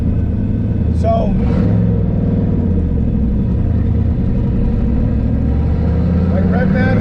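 A car with a Tremec TKO or T56 manual transmission idles close by, its engine rumbling steadily with a brief rev as the clutch works, while someone talks over it.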